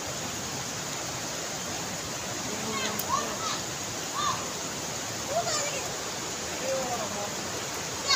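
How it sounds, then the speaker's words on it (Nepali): A large river rushes in a steady broadband roar that stays constant throughout, with faint voices and a few brief higher calls rising over the flow. "खोला पनि कत्रो ठुलो रहेछ"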